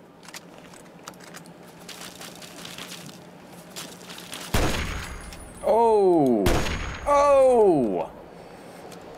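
Two loud, sharp gunshots from the Operation Anchorage add-on of Fallout 3, set in Anchorage, Alaska, crack out a couple of seconds apart over quiet game ambience, while a player's excited voice cries out between and after them.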